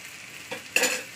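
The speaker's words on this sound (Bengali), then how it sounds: "চলুন এবার দিয়ে দেবো আমি এক চামচ আদা রসুন পেস্ট" A spoonful of ginger garlic paste hits hot oil with spices for a prawn curry, giving a faint scrape and then a sudden, close burst of sizzling.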